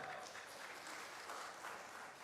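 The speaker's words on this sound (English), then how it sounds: "Please give a round of applause, ladies and gentlemen." Conference audience applauding the announcement of a best paper award, even continuous clapping from a hall full of people, fairly distant and soft, with no voices over it.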